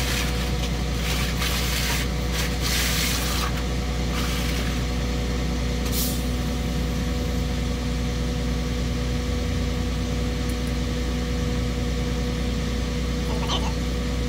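Compressed air hisses continuously into a semi trailer's brake lines after an emergency brake valve replacement, a loud steady rush over an idling truck engine with a few brief sharper bursts.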